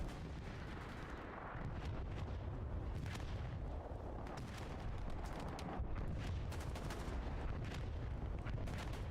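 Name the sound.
bombing run explosions in a video game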